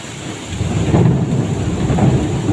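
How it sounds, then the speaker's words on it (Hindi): Thunder rolls in a low, continuous rumble while steady rain hisses and patters close by. "बिजली भी कड़क रही है"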